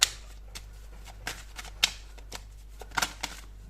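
Tarot cards are shuffled up close in a few quick riffling bursts with crisp slaps and flicks, separated by short pauses, with no talking.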